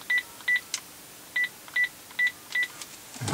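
Dialing tones from a Pioneer DEH-X8700BS car stereo placing a Bluetooth call: six short, clear electronic beeps in an uneven rhythm, fairly loud and close, with no talking.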